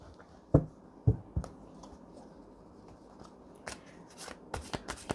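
Tarot cards being handled and shuffled, a few sharp taps and then a run of quick flicking riffles close by, with no talking.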